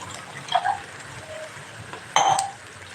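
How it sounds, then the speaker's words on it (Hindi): Two glasses of water are poured into a pot on an Indian home stove for kadha, two short splashing gushes about a second and a half apart over quiet kitchen background, with no talking. "इसके लिए मैं 2 गिलास पानी रख रही हूँ।"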